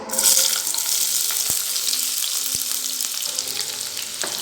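Chopped onion fries in hot ghee with a constant bright sizzle from start to finish, a louder flare at the very start, and a few soft knocks scattered through.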